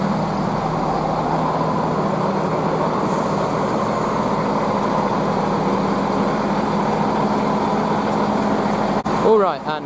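Class 168 diesel unit 168003 sits at Banbury station, its engine giving a loud, even, steady drone for nearly the whole stretch before a short disturbance at the very end.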